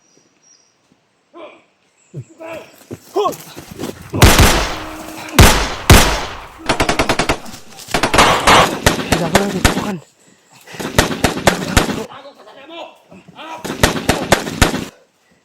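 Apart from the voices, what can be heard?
gunfire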